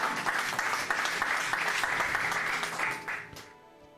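Church congregation applauding to acclaim the Lord, a dense, steady wash of many hands clapping that holds for about three seconds before fading out.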